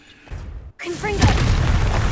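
A Confringo fire spell blasts in Hogwarts Legacy, a sudden loud boom after a brief silent gap, followed by a crackling, roaring burst with sparkling magical tones trailing off.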